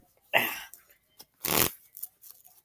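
A deck of playing cards is shuffled close up in two quick, crisp riffling bursts separated by a short pause, with faint handling clicks between them.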